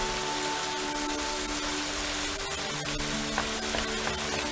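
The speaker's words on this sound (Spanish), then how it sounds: "¡Jesús, cómo llueve!" Heavy rain pours down in a steady, dense hiss with scattered drops pattering on surfaces. A faint hum runs underneath, and no one speaks.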